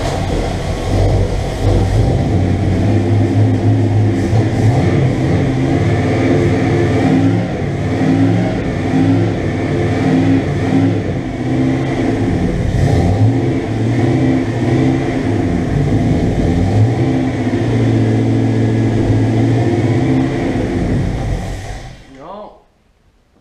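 A Dodge van engine revving hard and steadily for about twenty seconds, a loud close rumbling roar with wavering pitch, before the engine cuts out and dies; voices talk over it at times.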